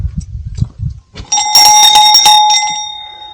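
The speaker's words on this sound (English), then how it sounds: "Ring the bell," After a few spoken words, a bright metallic bell rings loudly several times in quick succession, then its tone lingers and slowly fades.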